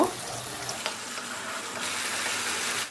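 A spice paste of ground mustard and poppy seed is stirred and fried for an aubergine dish, giving a close, steady sizzle with a few sharp scrapes and clinks of the spatula. No one speaks.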